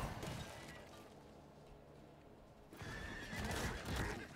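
A horse whinnies loudly in a modded Call of Duty Zombies game, with a burst of hoof clatter and impact noise after a quieter stretch; no one speaks.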